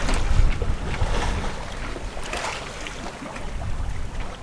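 Steady wind rushes past a sailboat sailing close-hauled in a light breeze of about five knots, loud and close, with buffeting gusts and a broad hiss of water and air and no talking.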